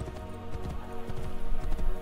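Horse hooves clip-clop steadily in the video game Assassin's Creed: Brotherhood, a rhythmic trotting beat heard over a dense background of game music and ambience.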